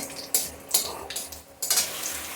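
Raw papaya pieces tossed into a hot pan with tempering spices, bursts of crackling sizzle and stirring scrapes in uneven waves, close and moderately loud, no one speaking.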